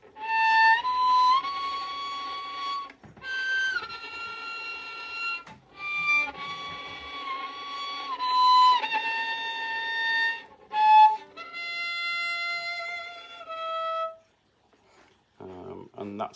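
Bowed string instrument plays a Rachmaninov Third Symphony passage in normal notes, a sequence of sustained, gliding pitches with brief breaks between phrases, close and clear, fading out near the end before a faint rustle.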